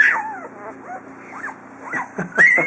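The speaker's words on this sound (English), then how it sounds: "That's a lot of puppies." Several puppies whimper and squeal close by in thin, rising and falling whines and yips, overlapping in short bursts.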